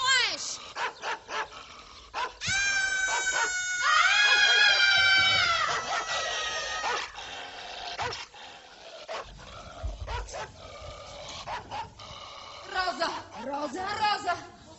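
A dog barks, yips and whimpers in bursts, loud and close, while people shout and talk over it.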